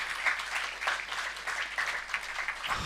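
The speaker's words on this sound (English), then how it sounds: "Give a big round of applause for." Audience applause at a B.Tech 2025 batch inauguration programme, a steady wash of many hands clapping through the whole stretch, moderately loud in a hall with no talk over it.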